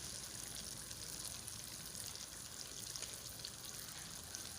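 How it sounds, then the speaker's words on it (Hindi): Cut potatoes frying in a pan, a faint, steady sizzle with soft crackling, close but quiet, with no talking. "अब आलूओं को भी अच्छी तरह मैंने भून लेना है।"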